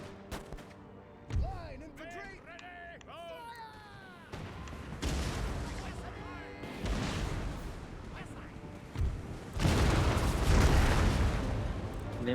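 Cannon fire aimed at enemy gun crews in the strategy game Empire: Total War, with booming artillery shots and explosions over battlefield din, mixed with meow-like voice sounds and background noise.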